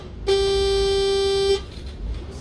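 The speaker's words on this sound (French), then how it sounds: "je voulais klaxonner pour le piéton qui traversait hors passage piéton" Volvo 7700 city bus horn in OMSI 2, a single steady blast lasting just over a second, loud and close, with faint ambient noise after it stops.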